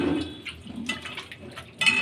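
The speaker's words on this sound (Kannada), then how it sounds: "ಚಿಪ್ಪೆಗೆ ನೀರು ಹಾಕಿ ಚೂಚ್ಕೊಳ್ಳೋಣ" Water poured over mango peels in a bowl, splashing and trickling in short bursts with a brighter gush at the end, close and fairly loud, no speech.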